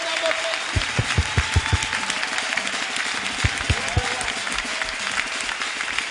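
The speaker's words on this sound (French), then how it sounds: "Acclamons le roi." A church congregation applauding in rhythmic unison claps, steady beats in two bursts with a pause between, over a murmuring room tone.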